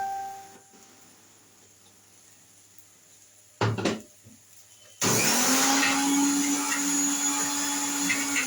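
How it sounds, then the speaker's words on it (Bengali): Blender grinding soaked cashews and raisins into a paste, starting with a short clatter of handling, then a loud, steady whirring roar that runs continuously to the end. "কাজু কিশমিশটা যে রেখেছিলাম ওটাকে আমি পেস্ট করবো"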